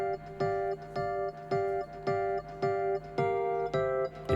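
An Arturia Rhodes-style electric piano emulation plays a steady, evenly spaced chord pattern, each soft bell-like chord decaying before the next, alone and fairly quiet.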